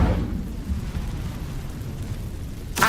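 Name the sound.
Incendio fire spell effect, Hogwarts Legacy video game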